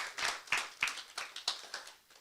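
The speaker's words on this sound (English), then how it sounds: "perhaps we should give them a round of applause" Sparse, scattered hand claps from a small group at a conference on digital transformation, a handful of distinct sharp claps rather than full applause, fairly quiet.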